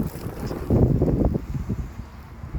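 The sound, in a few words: wind blowing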